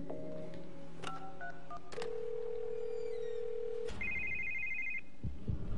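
A phone in The Assignment DLC of The Evil Within on PS4 plays short dialing tones and a long steady tone, then a warbling electronic ring, fairly quiet, with no talk.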